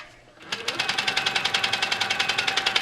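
A sewing machine quilting a pillow sham runs steadily at a fast even stitching rhythm after a brief quiet start, close and clear with no talk.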